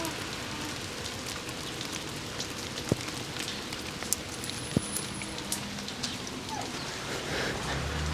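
Rain falls steadily on a rainy day, a dense, even patter with a few sharper drops and clicks scattered through it, heard alone without talk.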